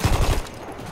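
Rapid bursts from a light machine gun with a bipod and a 100-round magazine in the video game Battlefield 1, a fast rattling volley under a second long that cuts off abruptly.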